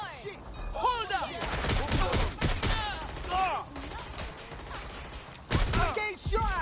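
Gunfire in Watch Dogs Legion on PS5, a steady barrage of close shots and bursts mixed with game sounds, with a sharp loud burst near the end.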